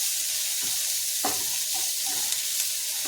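Bitter gourd sautéed in a hot pan for a curry, with a steady sizzle broken by a few scraping stirs, close and continuous with no talking.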